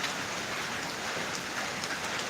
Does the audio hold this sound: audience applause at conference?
no